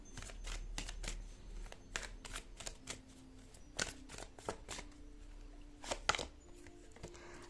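Tarot cards are shuffled and drawn from a deck, producing a rapid series of crisp riffling snaps and slaps, close and fairly quiet, with a faint low hum beneath.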